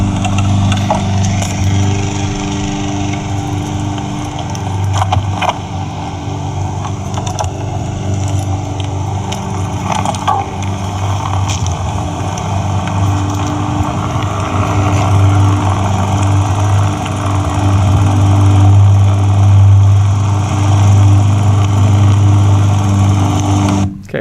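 A motorbike engine runs steadily on a street, recorded from the bike itself: a continuous low droning hum that stays loud and even throughout, with no voices.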